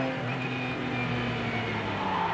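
A brand-new HPD P2-class prototype race car at Sebring, its engine a steady, loud drone with tonal harmonics and little throttle change, heard continuously with no voices over it.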